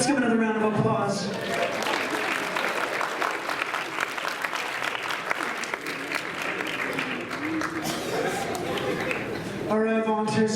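A full round of applause from a crowd at a university Mardi Gras show builds and holds for several seconds, framed by a person talking briefly at the start and end.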